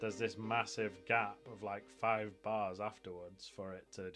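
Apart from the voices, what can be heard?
No distinct noise like a dog, phone or traffic.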